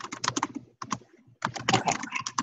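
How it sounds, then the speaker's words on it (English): Rapid computer keyboard typing in a quiet room, loud clustered keystrokes in quick bursts with a short pause near the middle, heard alone. "I can hear someone typing, so maybe there's a question coming in."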